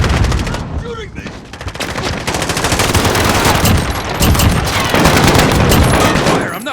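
Rapid gunfire fills a Modern Warfare match, dense bursts and overlapping shots rattling continuously, loud and close, while a player's voice calls out over the shooting.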